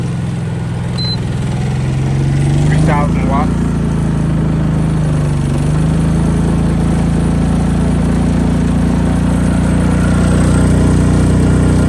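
A Honda portable generator runs under load from a plugged-in heater, a steady loud engine drone with a low hum that dips briefly in pitch early on, then settles and holds evenly.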